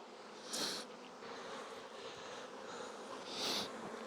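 Steady, dense buzzing of many honeybees from a queenless colony in a mating nuc at close range, with a couple of louder hissing swells rising over the constant drone.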